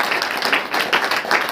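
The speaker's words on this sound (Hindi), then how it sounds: "ताली बजा करके" A congregation claps hands during a church service, a loose crowd of palms beating in quick repeated bursts, moderately loud and close, with no talk over it.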